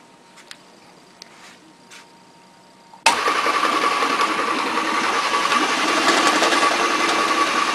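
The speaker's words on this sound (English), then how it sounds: "This is a fixed speed pump." After a few quiet seconds with faint clicks, a fixed-speed peristaltic ink pump switches on abruptly and runs with a steady, loud mechanical whir that holds to the end.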